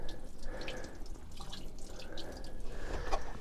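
Water trickling and dripping from boat hoses pushed down into the bilge of a 2021 Nautique wakeboard boat, a soft, continuous patter of small drops and splashes, faint and close.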